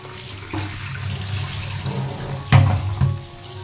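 Fish being rinsed under running tap water in a home kitchen, a continuous splashing flow with a few louder bursts and gushes near the end as the fish is turned under the stream.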